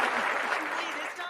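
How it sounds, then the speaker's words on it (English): Steady applause from a virtual crowd in an EA NHL hockey video game fills the background while a voice talks over it. "Even the Calgary fans give the Nuge a little bit of a clap respect on that one there"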